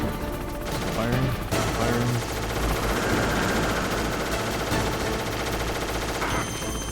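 Sustained gunfire from the video game Metal Gear Solid plays as a dense, continuous rattle of rapid shots with in-game sound layered over it for several seconds.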